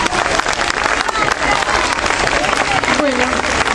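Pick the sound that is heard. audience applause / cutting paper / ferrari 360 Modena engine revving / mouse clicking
audience applause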